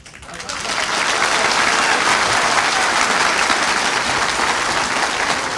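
A crowd of citizens breaks into applause after hearing the state will pay for their damages; the clapping swells over the first second, then holds as a thick, loud, continuous roar of hands to the end.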